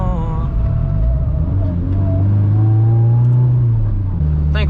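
A 600hp Mitsubishi Evo 9 revs up from inside the car, its engine note rising and falling in pitch over a steady, loud drone, close and continuous with a slight shift near the end.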